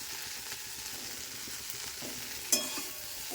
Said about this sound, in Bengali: পেঁয়াজটা আধ ভাজা হয়ে যাওয়ার পরই ঢ্যাঁড়সগুলো দিয়ে একসঙ্গে ভাজতে শুরু করলাম